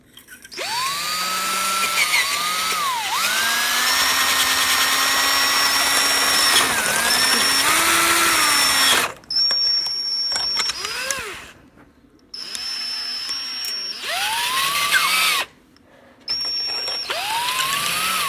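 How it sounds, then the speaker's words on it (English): A power drill whines loudly and continuously as it bores into metal, its pitch rising and falling with load, then stopping and restarting in short bursts. "Now we start drilling."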